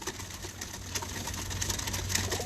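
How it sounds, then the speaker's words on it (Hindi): A rooftop pigeon coos in low, repeated throaty pulses close by, under a faint, steady background hum. "ये कबूतर है जी"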